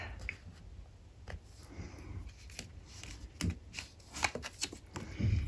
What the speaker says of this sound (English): Let's move these around a bit so I can make space for some more cards.